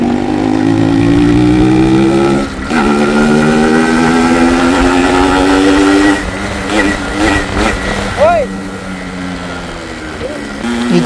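A 1991 Yamaha RX 100 two-stroke motorcycle engine runs close by at a steady idle with a buzzing, rising tone, then blips and falls off with brief revs near the end.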